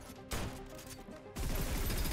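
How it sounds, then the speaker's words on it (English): Hand cannon fire in the game Snowbreak, a loud burst of sharp, rattling shots at close range, with a tinny, metallic ring to each impact. "Oh, that's the hand cannon."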